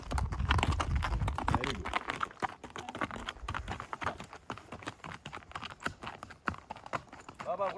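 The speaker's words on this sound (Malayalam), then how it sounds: "ഞാൻ ഇപ്പോൾ കുതിര സ്റ്റാർട്ട് ചെയ്ത് കാണിച്ചു" Hooves of a ridden horse at Matheran clip-clop in a quick, uneven rhythm of sharp knocks, close and continuous, with some talking mixed in.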